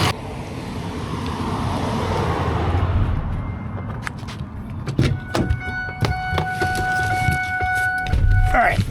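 Car road noise with a broad, steady rumble and hiss that fades after about four seconds, followed by clicks, thumps and tonal chimes like a vehicle stopping and being shut down.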